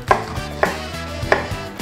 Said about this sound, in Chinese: 那我们现在切洋葱，洋葱要切成小块状